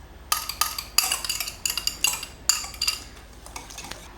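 A spinach and feta pie filling being whisked in a bowl, with rhythmic clinking utensil strokes against the bowl in quick uneven bursts, close and without speech.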